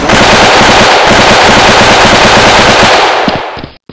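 Loud, rapid automatic gunfire in a video game firefight rattles almost nonstop in sustained bursts, then cuts off abruptly near the end with a few scattered shots.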